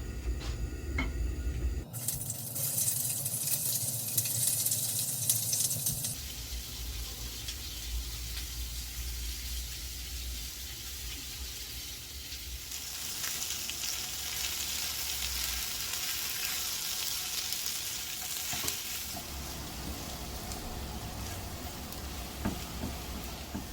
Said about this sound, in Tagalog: Ayan po, nakaramelize na po ang onion.